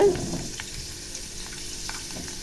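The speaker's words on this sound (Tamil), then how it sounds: "இப்போ இந்த அப்பளங்களை கொஞ்சம் கொஞ்சமாக போட்டு நம்ம இதை பொரித்து எடுத்துடலாம்" Papads deep-frying in hot coconut oil give a steady, fairly close sizzle and crackle with faint stirring, and no one speaks.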